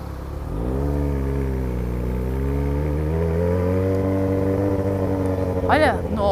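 A Yamaha XJ6 motorcycle engine revs up close during a night ride through the city, its pitch climbing quickly and then holding a strong, steady drone, with a brief voice near the end.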